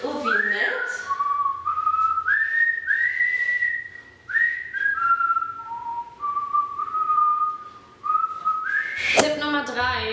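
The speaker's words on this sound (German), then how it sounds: "ich habe nur angefangen, die amerikanische Hymne zu pfeifen" A person whistles the American national anthem, a slow, stately melody, clear and close, with sustained notes and brief pauses between phrases.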